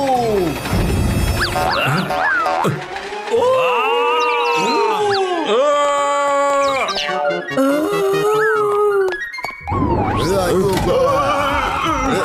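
A cartoon character howls in the Motu Patlu zombie film, long wavering dog-like howls rising and falling, with animated voices and music mixed in and a sudden break near the end.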